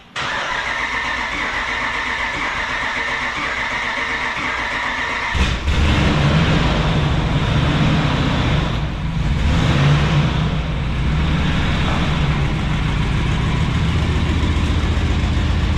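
A 2014 Dodge Ram 1500 fitted with a 2011 junkyard engine cranks and catches about five seconds in, then settles into a loud, steady, rough idle that runs close to the microphone.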